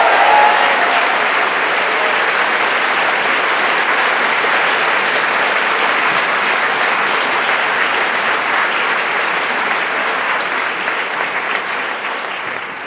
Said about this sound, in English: A final round of applause for Ed Thorne